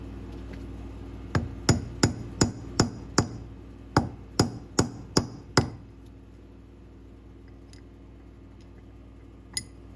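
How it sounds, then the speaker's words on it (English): Metal drift struck with a hammer to knock out a rear bearing on a Triumph Spitfire, about ten sharp, evenly spaced ringing blows in a quick series, then quiet with one last faint tap. "just using the drift, see if I can just try to gently drift this out"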